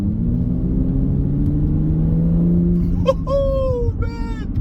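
A Toyota Supra Launch Edition with a 425 hp engine rumbles steadily up close as it rolls out of a parking lot at low throttle, its low drone rising slightly before brief whoops of voices break in near the end.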